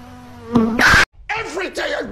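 A cartoon bee buzzing in a Brawl Stars animation, a short, loud insect drone about a second long, followed by a brief silence and then wavering, buzzy sounds.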